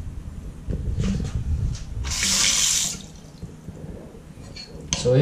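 A leaking household faucet runs water into a sink once the valve underneath is opened, a broad steady rush swelling for about a second before easing, with faint talk and clatter around it.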